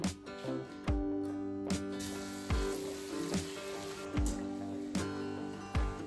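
Food frying in hot oil, a steady sizzle punctuated by regular sharp knocks about once a second over a low steady hum.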